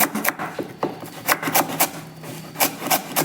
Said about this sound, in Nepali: म पहिला प्याज काट्छु अनि तपाईहरुलाई देखाउँछु।